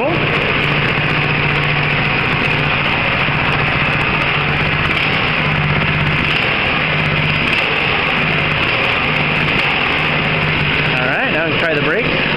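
A go-kart's small engine runs loud and close with the throttle applied, a continuous buzzing rasp that holds steady for the whole stretch, alone without talk.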